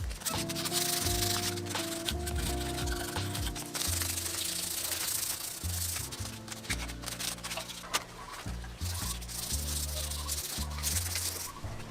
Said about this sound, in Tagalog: ililiha ko muna siya bago natin i-base coat